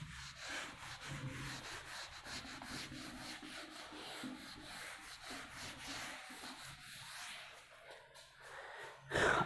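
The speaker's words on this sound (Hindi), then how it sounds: "देख लीजिएगा, इसको मैं रब कर दे रहा हूँ।" An eraser rubs out writing on paper in a steady run of scratchy strokes, close and continuous, with a louder scuff at the very end.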